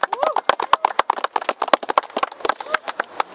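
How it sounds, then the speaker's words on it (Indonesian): A small outdoor audience at a camping poetry night by Guguan river in Taichung claps in sharp, scattered bursts, uneven and close, with the hand claps thinning and restarting rather than settling into a steady roll. "Tepuk tangan buat kita semua."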